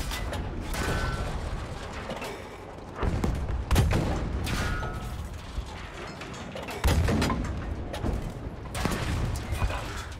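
Heavy booming blasts from a tank firing in Battlefield V's World War II combat, a few deep thumps rising above a dense, rattling battlefield din.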